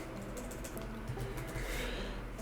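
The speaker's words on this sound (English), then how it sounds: "press spacebar and type in merge." Keystrokes tapped on a computer keyboard, including a press of the spacebar, come as a short run of soft, close clicks over a steady low hum, with no talking.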